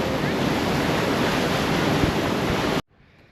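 Loud, steady roar of rushing water at Amaravathi Dam, a dense broadband wash filling the scene without a break, then cutting off abruptly near the end to quiet.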